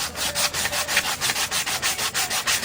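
Sandpaper rubbing back and forth over a wooden bowl during restoration, a steady rhythmic scratch of roughly five strokes per second, close and fairly loud with no voices.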